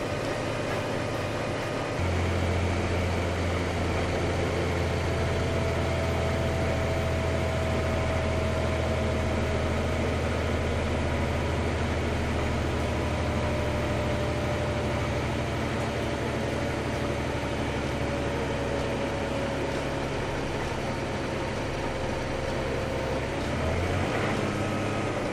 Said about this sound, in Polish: Kalibrujemy silnik na 1000 obrotów. Silnik ma 1000 obrotów.